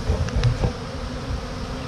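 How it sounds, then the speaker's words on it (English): Honeybees hum around the entrance of a beehive, a low steady buzz close to the microphone with a couple of brief louder passes in the first half second. "You can see how many more bees now are coming in the hive."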